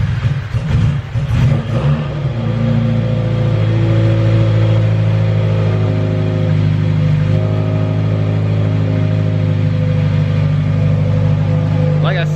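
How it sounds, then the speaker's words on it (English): A Subaru Impreza that had sat unused for a while, started with a jump pack, loud and close, cranking briefly and then settling into a steady, slightly rough idle with a low hum. "so a little bit of a rough idle at first, but I got it running"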